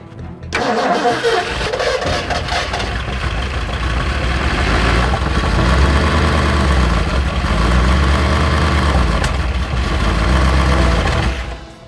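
A rebuilt big block V8 in a 1964 Ford Galaxie with no oil pressure cranks and catches, then runs roughly at a loud, uneven idle with stumbling, lumpy pulses and occasional surges, close up for nearly twelve seconds.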